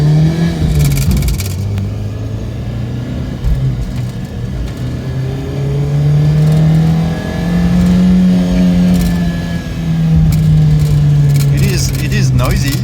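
A 1996 Toyota RAV4 engine drones and rises in pitch as it revs in first gear, then drops and climbs again, steady and close, with a rattling cabin hum.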